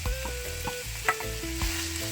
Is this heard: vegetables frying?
yes